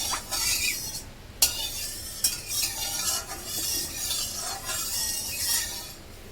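Oil swirled around a kadhai on a gas stove while making dhaba-style veg Hakka noodles, a steady scraping and sizzling with a few sharp metallic clinks, close and fairly loud, no talking.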